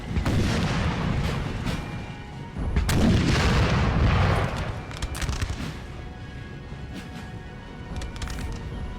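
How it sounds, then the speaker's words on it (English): Cannon fire from 9-pounder artillery booms across a Napoleon: Total War battlefield, a dense, continuous roar of overlapping blasts and crashes with a swell in the middle, loud and close. "We've also got an artillery deployed."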